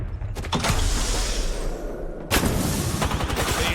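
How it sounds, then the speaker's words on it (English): Gunfire during an online shooter match, dense bursts of rapid shots with mechanical clatter, loud and continuous, pausing briefly before another heavy volley. "Being shot at."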